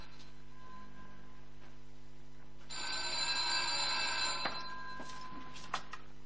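A telephone rings in an office, a faint mechanical bell trill starting partway through and continuing steadily at a distance, with no speech over it.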